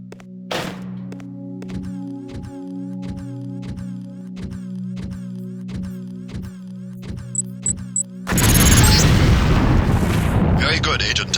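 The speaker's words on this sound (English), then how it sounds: "If you aren't close enough, the lamp will fall to the ground and detonate." A LAM mine detonates in the training level of Deus Ex: a droning, rhythmic game tune plays, then a sudden loud explosion with a long rumbling roar.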